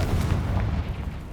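Confringo blasting spell cast in the Hogwarts Legacy video game, a dense continuous rumbling burst of low booming energy, loud and sustained across the whole moment with no talk.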